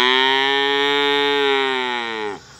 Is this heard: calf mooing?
yes